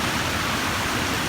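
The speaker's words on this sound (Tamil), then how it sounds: "தண்ணி செம்ம ஃப்ளோவில் போயிட்டு இருக்கு" Water flows strongly, making a loud, dense, unbroken rushing roar. It stays close and steady for a brief moment, with no voices over it.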